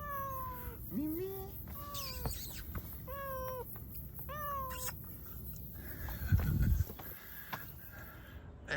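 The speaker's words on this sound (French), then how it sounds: "Le minou, Mimi, le Mimi, le minou, Mimi." A cat meows outdoors on a stretch of the Camino del Norte in the Basque Country, giving about five or six separate plaintive calls in quick succession, close by, followed by some rustling and handling noise.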